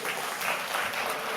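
Steady applause from a live audience at a mental math performance, dense and continuous throughout, with no one speaking over it.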